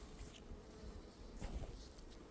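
Honeybees buzz around a hive in early spring, a faint, continuous low hum with insects drifting close, no voices over it.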